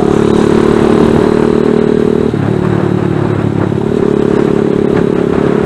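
A ZS190 Grom clone motorcycle rides along with a loud, steady engine drone and wind rush, its pitch dipping briefly mid-ride before holding steady again, close and continuous throughout.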